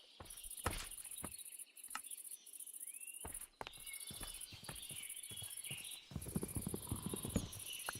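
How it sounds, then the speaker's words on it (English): Horse hooves clip-clopping in the Minecraft video game, several distinct knocking steps spaced irregularly over a continuous insect-like chirring ambience. "now that I have a lead, I can tie my horse up if I go somewhere"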